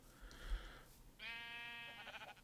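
A single sheep in the Minecraft video game lets out a clear, wavering bleat lasting about a second, preceded by a short, soft animal call against a quiet background.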